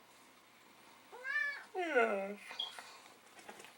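A house cat meows twice in a row, the calls drawn out and rising then falling, close to the microphone, while a person speaks softly to it.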